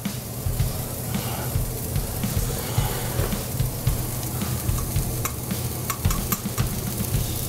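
Chicken Normandy sauce reducing in a pan with a steady, soft bubbling sizzle and repeated light stirring and scraping, close by, with a few sharper clicks near the end.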